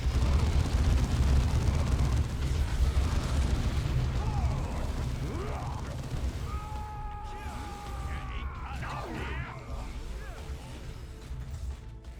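A heavy rumbling blast from a grenade in Dawn of War II, with a building crumbling under it. The deep roar dominates at first and then fades into creaks, clatter and short tonal game sounds.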